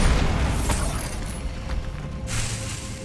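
Bombarda spell explosion in Hogwarts Legacy, heard as a dense, loud boom with crackling debris that lingers about three seconds, with a fainter burst near the end.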